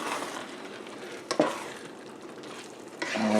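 Gravy cooking and being stirred on a griddle, greasy-spoon style, gives a steady close sizzle with scraping stir strokes and a sharp utensil knock midway, alone with no talk.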